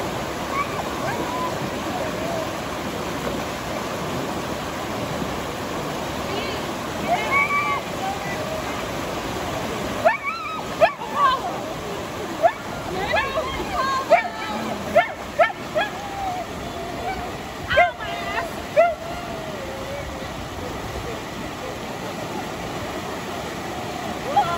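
River water at Slide Rock rushes and splashes steadily throughout, a broad continuous wash with a few louder splashes later on, while voices talk faintly under it.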